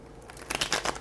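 Tarot cards being shuffled by hand, a quick papery riffle of crisp crackling bursts that swells into several rustling pulses in the second half, close and moderately loud.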